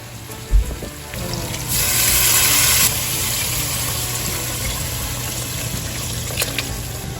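Water pours into a cooking pot for a West African peanut butter and green bean leaf stew, a brief steady rushing splash near the mic lasting about a second before quieter kitchen background.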